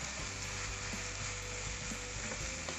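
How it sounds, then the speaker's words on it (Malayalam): Sliced onions fry in hot oil for Mughlai chicken, giving a steady, soft sizzle with faint crackles and occasional stirring scrapes throughout. "ഇത് നന്നായിട്ട് ഫ്രൈ ചെയ്തെടുക്കണം."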